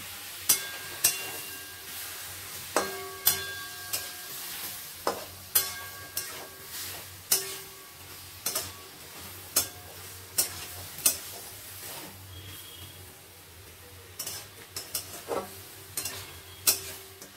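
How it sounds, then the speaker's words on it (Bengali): Spices sauté with a splash of water in a pan for a spinach chorchori, a soft steady sizzle broken by regular sharp scrapes and taps of a spoon stirring against the pan, close and quiet. "মশলাগুলো দেওয়ার পরে একটু জল দিয়ে দিলাম মশলাগুলো কষানোর জন্য।"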